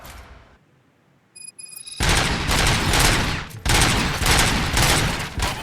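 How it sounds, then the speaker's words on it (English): Rapid gunfire erupts in RoboCop: Rogue City after a near-silent pause, dense bursts of shots hammering loudly and close in two long volleys with a brief gap between them. "Gunshots? What's going on?"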